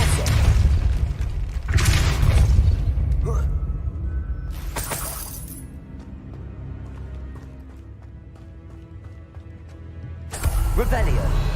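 Depulso spell cast in Hogwarts Legacy: loud booming, shattering bursts at the start and again near the end, with a quieter stretch of ambient game sound between, partly under speech.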